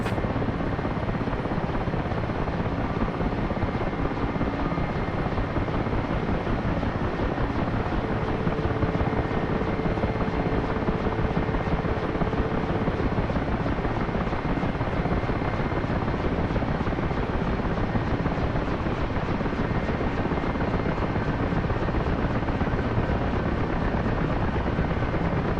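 A helicopter engine cranks up in the DCS World flight simulator, a dense steady roar of turbine whine and rotor wash that holds constant and loud throughout with no voices.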